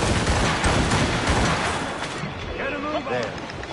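Cannon fire in a PS4 video game, a dense rumbling barrage of booming blasts at the start that fades as a voice speaks over the tail end.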